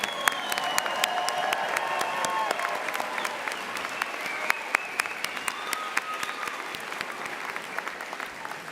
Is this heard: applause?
yes